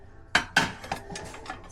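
Ceramic dishes knock and clink together as they are handled at an estate sale, with two sharp clatters followed by several lighter taps, close by and otherwise quiet.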